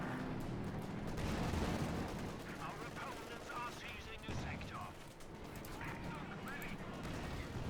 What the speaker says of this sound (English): Rob squad are being shredded by the machine guns and the main guns over the Panther 4 and the Stuke there.